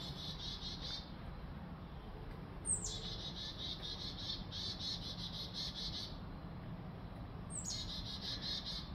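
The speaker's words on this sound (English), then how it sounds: "You hear the birds?" Birds chirp outdoors in repeated high bursts over a steady low background rumble, with short trilling calls recurring every few seconds.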